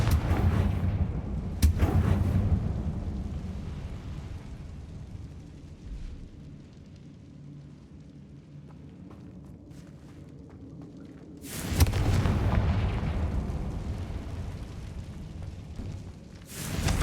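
Confringo fire spell blasts in Hogwarts Legacy on Xbox, two heavy booming explosions several seconds apart, each with a rumbling tail, separated by a quieter stretch of low ambient game sound.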